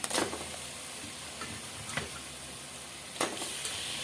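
Pieces of skin-on broiler chicken go into a hot pan for a curry and fry with a steady, soft sizzling hiss, marked by a few sharp clatters and taps as the meat is dropped in and moved.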